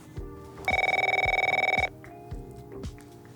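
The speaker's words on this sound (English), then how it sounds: "Oh, got a phone call here." A telephone bell rings once in a fast, rattling trill lasting just over a second, clear and fairly close, amid quiet scattered knocks.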